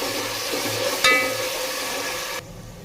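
Chopped tomato sautés in a hot pan for a spicy chicken gravy, giving a steady close sizzle with a spoon scrape near the middle, then the frying quiets abruptly toward the end.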